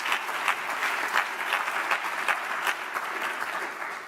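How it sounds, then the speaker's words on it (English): An audience claps steadily and enthusiastically, a dense wash of hand claps holding strong throughout. "One more round of applause."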